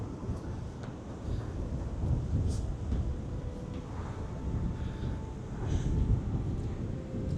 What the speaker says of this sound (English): Now the wind has slowed down a little bit, but it's still blowing quite hard.